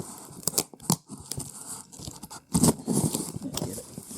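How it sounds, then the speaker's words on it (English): Knife blade slicing through the packing tape on a boxed action figure, giving close scratchy cuts and tearing scrapes in short bursts, then a longer run of crinkly cutting and rustling. "This one is taped, so I do gotta bring out the knife."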